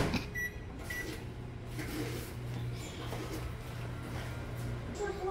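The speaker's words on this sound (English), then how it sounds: "Now I'm just going to put it in the microwave for a little bit." A microwave oven hums steadily at a low pitch, with faint clatters and small kitchen noises around it.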